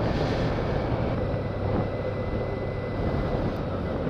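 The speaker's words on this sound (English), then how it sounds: "You see some low flying helicopters right now." A low, constant engine rumble of low-flying helicopters overhead during a bushfire, steady and fairly loud, with wind-like noise and no talking.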